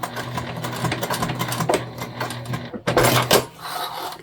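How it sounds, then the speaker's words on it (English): A sewing machine back-stitches across the bottom of a fabric tote bag, a fast steady needle rattle running for nearly three seconds, a short pause, then another brief burst up close. "we're just going to turn back across the bottom for our back stitch"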